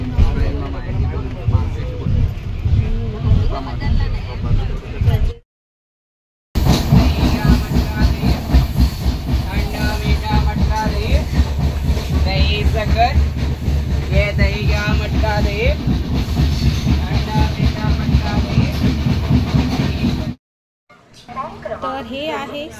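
A crowded passenger train on the Konkan route to Sangameshwar rumbles along with steady clickety-clack from inside the carriage, wind buffeting the microphone, a brief dropout partway, and faint voices underneath.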